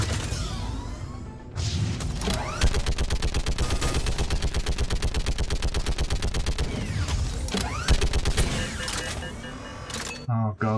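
A mounted gun in Mass Effect Legendary Edition fires long rapid bursts, loud and dense, with brief pauses between strings of shots, close and dominant throughout.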